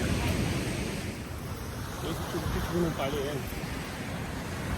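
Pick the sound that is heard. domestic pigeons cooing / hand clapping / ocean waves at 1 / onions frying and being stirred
ocean waves at 1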